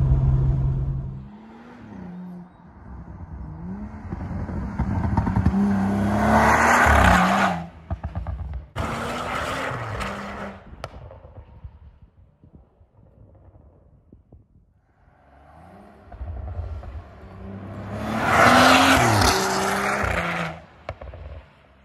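A stage 2 MHD-tuned BMW 435i accelerates hard while driving, its engine note climbing through rising revs in loud surges, easing off briefly between pulls before building to another strong, close rev.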